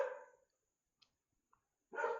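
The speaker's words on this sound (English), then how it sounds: "Sorry, my dog is hearing some noise in the background. He likes to take some barks." A dog barks in the background during an online show, two short muffled barks at the start and end with a couple of faint clicks in the near-silence between.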